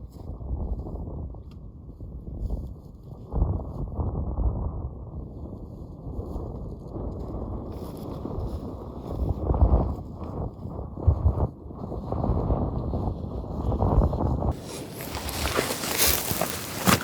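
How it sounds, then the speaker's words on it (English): Gusty wind outdoors on a spring bear hunt buffets the microphone as a continuous low rumbling roar, with soft footstep-like thuds and a harsh hissing burst near the end. "It's pretty windy"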